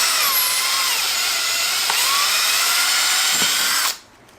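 A struggling power drill, its battery dying, bores new holes to mount an inflow pipe on a tank, a loud steady whine running for about four seconds before cutting off abruptly.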